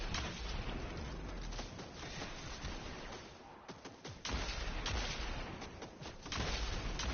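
Dense gunfire in the shooter game Destiny 2, a continuous barrage of rapid overlapping shots and impacts, loud and close throughout with no talking.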